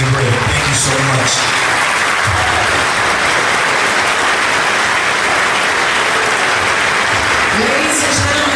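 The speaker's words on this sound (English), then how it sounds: "give yourself a round of applause" A crowd at a city inaugural swearing-in ceremony in South Fulton gives a long, loud, sustained round of applause, dense clapping throughout with a few brief voices near the start and end.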